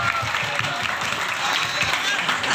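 A school crowd claps steadily throughout an Isra Mi'raj event, dense even applause filling the room at moderate distance.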